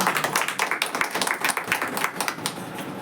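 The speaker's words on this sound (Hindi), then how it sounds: "आइए ताली मारेंगे।" A church congregation claps together, a dense run of fast, crisp hand claps lasting a few seconds at moderate volume.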